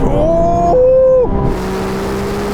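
A Ferrari 296 accelerates hard in a drag race, its engine note climbing in pitch, dropping sharply at a gear change, then settling into a lower steady drone, loud and close.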